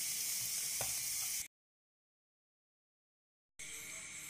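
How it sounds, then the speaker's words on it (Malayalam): Finely chopped onion sautés in a pan for a vegetable cutlet, giving a dense, even sizzle that cuts out for about two seconds of silence and then resumes. "ഇനി അതിലേക്ക് അരിഞ്ഞു വെച്ചിരിക്കുന്ന ഒരു സവാള ചെറുതായി അരിഞ്ഞത് ചേർത്ത് കൊടുക്കാം. അതുമൊന്ന് ഇളക്കി കൊടുക്കാം."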